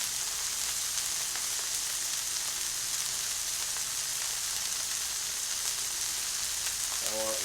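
Hamburger patties fry in a pan for a cheeseburger sub, giving a steady, dense sizzle that runs unbroken and close the whole time, with no talk over it.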